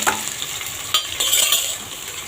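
Sliced onions and slit green chillies hit hot oil for prawn biryani, making a bright, close sizzle that swells as they are stirred, with a few metal scrapes and no talking.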